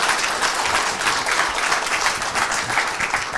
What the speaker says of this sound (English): So we get to clap for Jeff again.